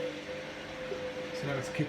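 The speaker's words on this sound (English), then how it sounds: "Now it's kicked into what I presume is the load distribution, and the pumps come back on again." Drain pump of a Candy washing machine running during its cycle, a steady low hum with a whirring tone under a faint background hiss, close and fairly quiet, continuous throughout.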